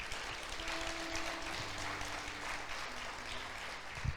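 Applause from a church congregation fills the space steadily under a low hum and faint tones, a broad crowd sound without break.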